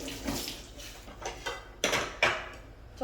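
Running water rinsing vegetables and soaked mushrooms for japchae at a kitchen sink, with splashing bursts and clinks of handling, fairly close and steady, no talking.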